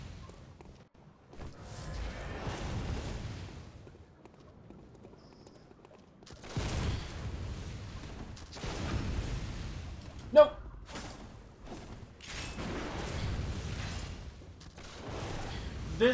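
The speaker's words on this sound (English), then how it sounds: "we can just sit here and shoot each other with our guns over and over again" Gunfire in the video game Bloodborne, scattered shots and impacts amid game noise in several bursts, moderately loud, with a voice talking over parts of it.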